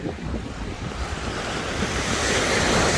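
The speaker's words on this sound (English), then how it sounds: "I'm gonna get to hear the beautiful ambiance of the ocean." Ocean surf rolling onto the shore at Malibu, a steady close wash of waves with heavy wind buffeting the microphone, swelling slightly louder toward the end.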